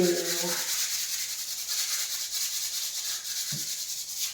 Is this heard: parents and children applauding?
no